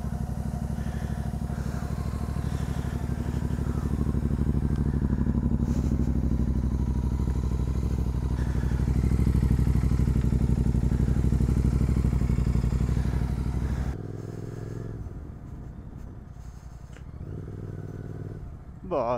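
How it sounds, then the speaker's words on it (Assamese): A GT 650 motorcycle's 650 cc engine runs from a cold start with a steady, throbbing twin-cylinder idle close by, then drops lower in level partway through, with a voice talking over it. "cold start দিয়াটো বহুত ইম্পৰ্টেন্ট হয় কাৰণ যিহেতু ইঞ্জিনটো ডাঙৰ 650 cc ইঞ্জিন হয়"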